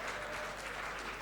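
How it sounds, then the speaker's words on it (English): An audience at a Zimbabwe ICT innovation fund launch event claps continuously, a soft, even, fairly distant patter of many hands with no voices over it. "a round of applause for Bonnie."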